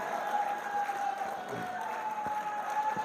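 An audience at a mushaira poetry event applauds a poet warmly, sustained clapping mixed with crowd murmur and cheers, steady and fairly close throughout.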